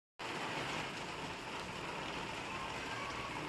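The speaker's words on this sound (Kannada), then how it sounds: "ಮಳೆ ಕಂಟಿನ್ಯೂಸ್ ಆಗಿ ಸುರಿತಾನೆ ಇತ್ತು ಆ್ಯಂಡ್ ವೆರಿ ಹೆವಿ ರೈನ್ಸ್" Heavy, continuous rain pours down steadily near a hillside accommodation in Wayanad, Kerala, a dense unbroken hiss with no voices.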